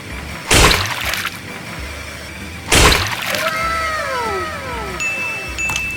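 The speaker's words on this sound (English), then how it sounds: "Water balloon." Two sharp bursts as water balloons pop in a LEGO machine, each followed by splashing water, with descending electronic tones ringing after the second.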